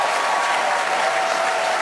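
A crowd cheering and applauding as Starship reaches orbit insertion, a dense, loud, unbroken roar of clapping and shouts that fills the whole moment.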